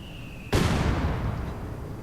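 A single mortar blast in the Company of Heroes 2 war game hits suddenly and loudly, then a broad rumbling roar slowly fades over the next second and a half.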